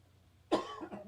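A single sharp cough bursts out near the microphone, followed by a short rough throat-clearing tail, with otherwise quiet surroundings.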